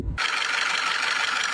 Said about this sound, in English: Abnormal noise from VV wheel at timing.